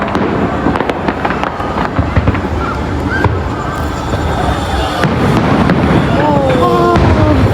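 Continuous fireworks crackle and boom in a dense, loud barrage, with distant crowd noise and faint voices beneath the steady bursts.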